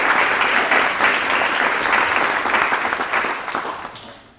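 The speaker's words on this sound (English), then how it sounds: "And they should get a round of applause too." An academic symposium audience gives a full round of applause, a thick, even crackle of many hands that holds steady and then gradually fades out at the end.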